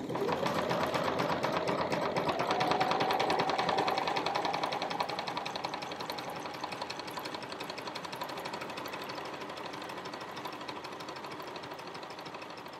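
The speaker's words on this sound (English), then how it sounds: "Now we are going to sew our buttonhole." A sewing machine stitches a buttonhole with a fast, even mechanical whir and rapid needle chatter, steady and close, the motor pitch easing slightly after the first few seconds.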